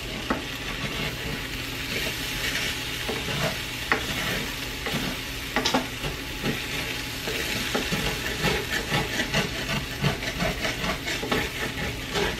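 Sausage sizzles and fries in a pan for gravy while a utensil scrapes and stirs through it, producing steady hissing with repeated close scraping taps.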